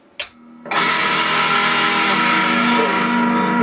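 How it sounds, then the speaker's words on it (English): Electric guitar played through the bridge pickup with distortion engaged: a brief pluck, then a loud sustained distorted chord ringing out alone. "And if we engage a little bit of distortion,"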